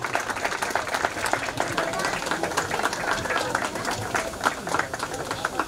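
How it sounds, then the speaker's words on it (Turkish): Crowd applause and clapping for the winners at the 2023 Buharkent rally hill climb awards, a dense, steady wash of hands that runs the whole time with voices talking underneath. "Alkışlar Eda Soylu, Murat Çetin ve Reha Aybey için."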